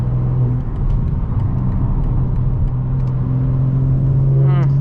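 A 900 bhp BMW M4 Competition pulls at quarter throttle on a late-night street, its loud, steady engine drone and exhaust rumble held close throughout, with a brief rising whine near the end.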